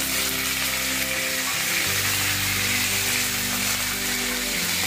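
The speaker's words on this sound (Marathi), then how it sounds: "मी त्याच्यामध्ये हिंग घालते, थोडा नंतर मूग भाजून कढीपत्ता घालते." Asafoetida, moong dal and curry leaves sizzle steadily in hot oil on a low flame for poha chivda, a continuous close frying hiss with a low hum beneath and no voices.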